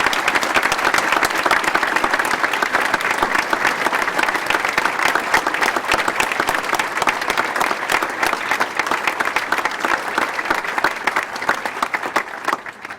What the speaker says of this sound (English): please join me in giving a round of applause to the upper sixth leavers of